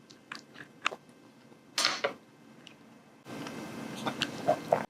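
Close, wet chewing and biting of food, with irregular crunchy bites and squishy mouth sounds spaced across a few seconds, heard alone, with a background hiss that rises partway through.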